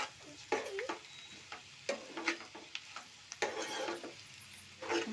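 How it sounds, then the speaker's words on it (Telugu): Boiled egg curry with tomato and onion is stirred in a pan once the lid comes off, giving quiet irregular scrapes and taps over a soft simmering sizzle. "ఒకసారి ఇలా లిడ్ ఓపెన్ చేసేసుకొని మిక్స్ చేసేసుకోవాలండి బాగా"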